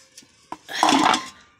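Steel dishes, pots and pans are handled during washing in a rural village home on a cold morning, giving a few light clinks followed by a louder clattering jangle of metal utensils, close by.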